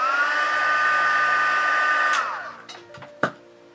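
A hair dryer blows steadily and close up for about two seconds to heat-set blush makeup on a face, then winds down, followed by a few light clicks and one sharp knock.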